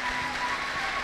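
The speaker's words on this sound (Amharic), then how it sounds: "እዛ ጋ አጨብጭቡለት ለዚህ ወንድማችን።" A church congregation at a prophetic healing service claps together in a short burst, a dense, even patter of many hands with crowd murmur underneath, fairly close and loud.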